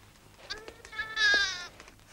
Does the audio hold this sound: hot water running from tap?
no